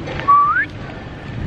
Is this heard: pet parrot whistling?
yes